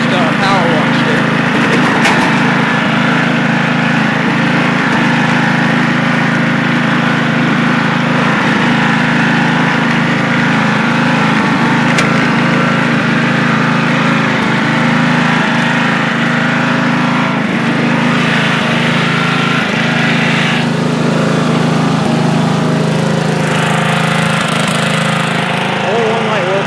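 A 1985 Craftsman II lawn tractor engine runs steadily and loudly throughout, a constant near mechanical drone with a low hum and rattling overtones; a person talks over it.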